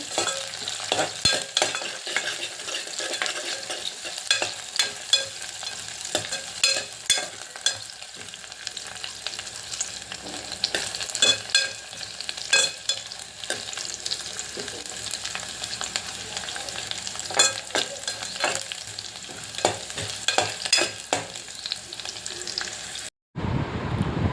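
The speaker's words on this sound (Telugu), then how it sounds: "ఈ పచ్చిమిర్చి వేసుకున్న తర్వాత కాసేపు వేయించుకుందామండి" Onions and green chillies fry in a pan with a steady sizzle, while a spoon stirs and scrapes them in frequent clatters throughout, close up.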